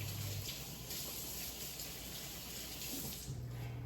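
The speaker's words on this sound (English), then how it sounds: "I'm gonna rinse my hands." Hands are rinsed under a running kitchen tap while pickled onions are made, a steady close hiss of water splashing into the sink that runs the whole time, unbroken by talk.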